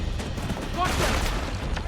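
Gunfire from the video game Uncharted: The Lost Legacy, a dense burst of shots and impacts with booming low end, running continuously over about two seconds beneath steady game noise.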